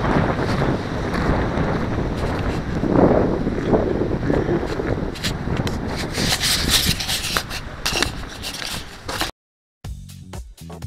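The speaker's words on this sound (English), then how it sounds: "Warm southerly wind." Warm southerly wind buffeting the microphone at Indian Creek Gorge on the Buffalo National River, a loud rumbling roar with gusts, briefly cut out and then resuming.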